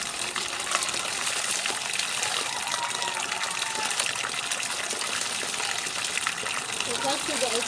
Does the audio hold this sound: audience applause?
no